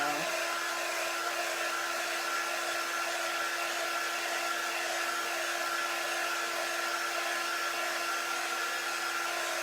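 A small blower-style heat drying tool runs steadily with a constant airy whir and a faint tonal hum, loud and uninterrupted throughout.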